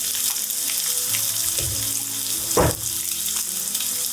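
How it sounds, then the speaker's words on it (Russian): Onions sizzle and crackle steadily in a hot pan over high heat, with a couple of brief clatters from stirring. "У нас все жарится на сильном огне."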